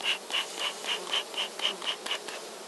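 Honeybees buzz at a divisible hive crowded with bees, a steady close hum pulsing in a regular rhythm of about ten swells, with no voices.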